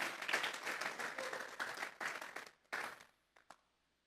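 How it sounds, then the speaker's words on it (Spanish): A church congregation claps and applauds in a dense, sustained burst for about two and a half seconds, then it thins to a few scattered claps and stray final slaps before falling quiet. "Vamos a regalarle ofrenda de palmas al Dios de la gloria."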